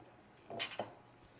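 A metal spoon scoops the flesh out of a pineapple, giving a couple of quick, quiet scrapes and light clinks close by, with near silence on either side.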